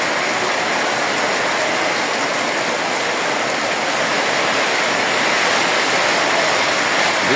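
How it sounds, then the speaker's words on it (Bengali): Heavy rain pours down during a storm with rising wind, a dense, steady roar that fills the scene from start to finish and swells slightly toward the end, with no voices. "বৃষ্টি অনেক জোরে পড়তেছে, বাতাসও বাড়তেছে।"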